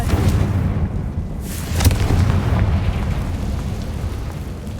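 A Confringo explosive fire spell blast in Hogwarts Legacy, a loud booming burst with a sharp crack near the middle, trailing into a rumbling roar with no talking.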